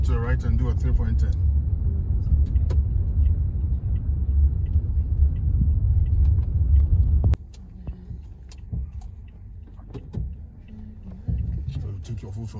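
A car rumbles low and heavy inside the cabin during a driving lesson in Canada while a three-point turn is being made. The engine drone drops suddenly partway through, and voices talk over it.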